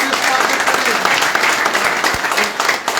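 An audience at BJP headquarters in Trikuta applauds to welcome a prominent new party member, producing sustained, dense clapping that stays loud and even across the whole stretch.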